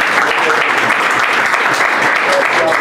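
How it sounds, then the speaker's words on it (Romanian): An audience at a talk and Q&A session applauds steadily and fairly loudly, a dense even wash of clapping that lasts the whole time with faint voices underneath. "Aplauze."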